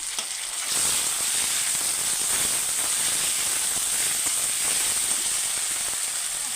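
Cumin, onion, garlic and chilli paste sizzle loudly in a pan with browned potatoes for rui fish curry, a dense steady hiss and crackle that jumps up after a brief quiet start and holds evenly, with no talk.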